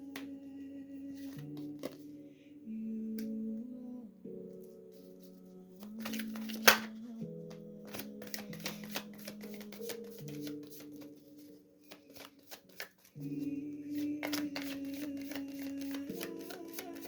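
Tarot cards are shuffled by hand in steady soft riffling bursts, close and quiet, with faint background music underneath.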